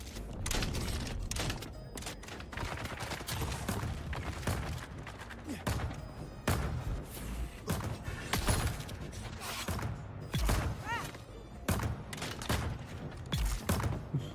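Turret gunfire in the video game Dune: Awakening, rapid bursts of shots and crackling impacts over a busy mechanical din, loud and nearly continuous throughout.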